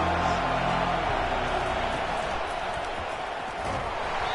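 Football stadium crowd noise, a broad, fairly quiet roar of many voices that stays steady with no single standout cheer.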